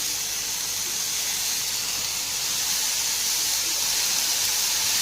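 Sausages dropped into a hot, dry pan with no oil, cooking for a fat-free sausage and potato tagine, sizzle with a loud, steady, continuous hiss close by.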